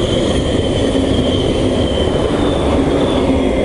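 A train passes near the Seto Ohashi bridge with a steady, loud rolling rumble and a faint high whine above it, continuous throughout with no voices.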